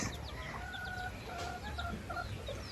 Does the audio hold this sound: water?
no